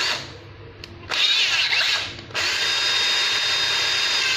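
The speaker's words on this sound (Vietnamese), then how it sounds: "khoan thì mình chuyển qua chế độ khoan rồi là mình để gì là mình khoan luôn" A Japanese-import cordless battery drill set to drilling mode whirs steadily at close range, spinning up loudly after a brief quieter start and running continuously without talk.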